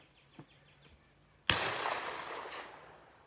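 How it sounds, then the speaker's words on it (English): One sharp, loud rifle shot from a Rock Island 1903 fires down a tunnel at a shooting range, with a long reverberant tail fading over a couple of seconds after faint clicks beforehand. "I'm shooting down a tunnel here."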